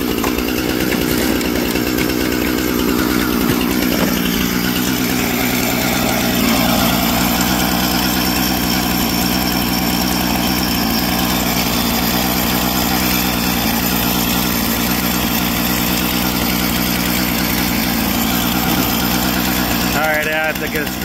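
A Husqvarna 455 Rancher chainsaw engine idling loudly and steadily throughout, with a rough rattling running note, while someone talks over it.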